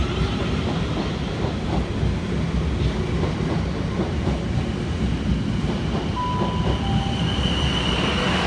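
A South Western Railway train formed of units 450-005 and 444-037 moves through Southampton Central station with a steady, loud rumble of wheels and carriages, and a brief thin wheel squeal rises near the end.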